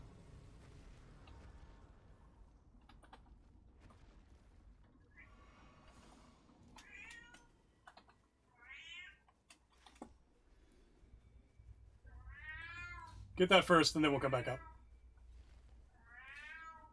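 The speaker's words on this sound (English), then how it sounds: "Hear the cat going?" Cat meowing several times in short, clear calls, with one loud, drawn-out meow near the end standing above a soft room hum; a person speaks briefly early on.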